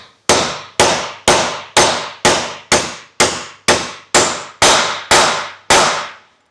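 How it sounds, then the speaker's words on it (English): A hammer drives a wheel bearing race into a boat trailer hub in eleven sharp metallic blows at an even, steady pace, each one loud and close with a short ringing decay. "And when the banging gets really loud, you know it's home."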